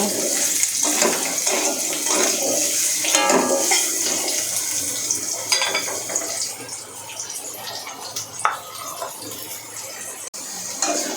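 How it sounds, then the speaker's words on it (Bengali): Cut potatoes frying lightly in oil, a constant loud, hissing sizzle close by with a few brief clinks of utensils. "কেটে রাখা আলু হালকা করে আলুগুলো আমি ভেজে নেব"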